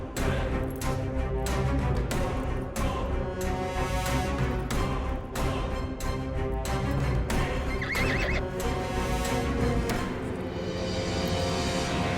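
A horse neighs and whinnies loudly up close while hooves clip-clop steadily on hard ground, with dense busy activity around it throughout.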